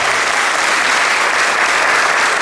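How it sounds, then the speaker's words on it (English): Seniors in an audience at a celebration give a dense, steady round of clapping that stays loud and even throughout the short stretch. "give yourselves a round of applause"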